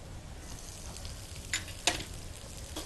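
Grated coconut fries quietly in ghee in a pan, a soft continuous sizzle with a couple of sharp scrape or stir clicks from a utensil, no voices.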